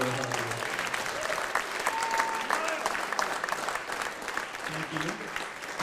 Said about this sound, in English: Give them a round of applause for all their hard work.